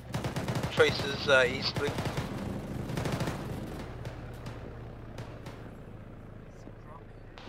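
Machine gun fire in a video game, rapid bursts early on that thin into scattered distant shots, with a voice talking over the gunfire.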